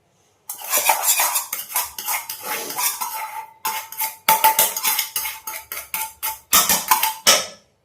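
Mango pickle rice (Andhra pulihora) is mixed in a metal vessel, with a rapid run of loud, close spoon scrapes and clinks against the pot in uneven bursts, no talk.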